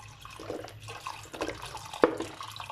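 Milk pours into a pot on a hot stove for a Turkish kazandibi pudding, a soft, uneven liquid splashing and gurgling with a sharper splash near the end, close and fairly quiet.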